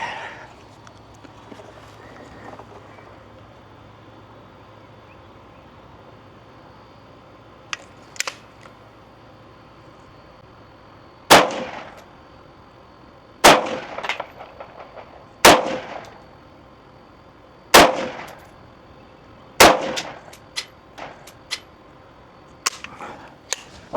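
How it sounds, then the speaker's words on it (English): Five rifle shots from a Zastava M70, sharp loud cracks fired one at a time at roughly two-second intervals, each ringing out briefly against a quiet outdoor background, with faint handling noises before them. "that was 5 shots"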